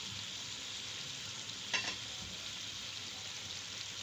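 Tomato paste frying in a pan of spiced oil for chicken feet curry, a quiet steady sizzle throughout with a brief stir or clatter in the middle.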